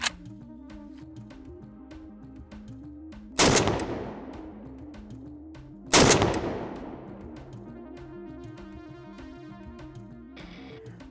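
Two loud, sharp AK-47 rifle shots ring out a few seconds apart as rounds are fired into a Toyota Tundra's Timbren SES suspension kit, each blast decaying into echo over a quiet background.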